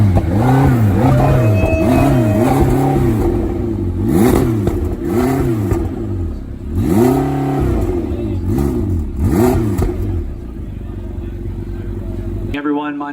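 A McLaren GT sports car engine revs repeatedly through its exhaust, a series of rising and falling blips with a deep throaty tone, close and loud.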